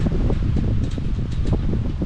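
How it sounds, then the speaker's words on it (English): Strong wind buffets the microphone in a continuous low roar, gusting unevenly throughout. "it's really windy here yeah, it's so windy today"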